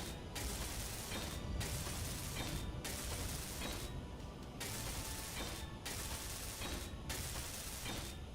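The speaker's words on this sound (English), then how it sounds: "let me weld this up here" A welding tool in the modded survival game Space Engineers runs as a loud, continuous mechanical grinding buzz, pulsing in a steady rhythm roughly once a second.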